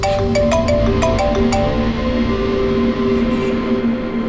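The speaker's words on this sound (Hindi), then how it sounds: "डॉक्टर सालुंकी का फोन था" A mobile phone ringtone in a Hindi TV crime drama: a loud, steady electronic melody of repeating tonal notes, with quick plucked-sounding notes early and held tones later, and no voices.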